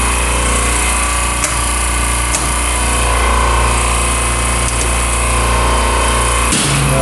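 Refrigeration compressors on a medium-temperature supermarket rack grind and hum loudly and steadily close by, with low tonal drone and a few brief clunks as the machinery starts and loads up.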